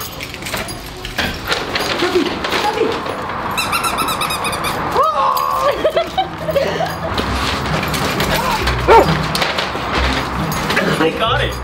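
A dog chews a squeaky toy, sending out a few high squeaks and whimpery squeals in the middle of the stretch, mixed with rustling and people talking nearby throughout.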